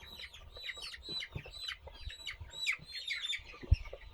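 Farm chickens clucking and chirping in a poultry shed, several birds calling in quick overlapping bursts at moderate distance, with a few soft thumps beneath.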